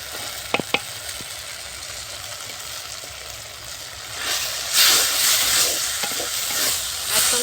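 Ground chili, turmeric, coriander and cumin paste fries in oil and is stirred for a fish curry, a hissing sizzle broken by a couple of sharp utensil taps early, then louder scraping bursts of stirring toward the end.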